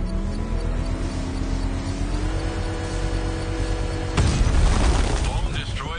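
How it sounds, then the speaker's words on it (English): A controlled explosion in Batman: Arkham Knight bursts out suddenly after a steady vehicle engine drone, a loud boom with crackling debris that fades over a couple of seconds. "use the power drain to trigger a controlled explosion."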